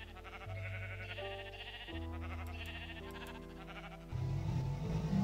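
Sheep bleat in a video game, several drawn-out tonal calls one after another, moderately loud and alone with no voices.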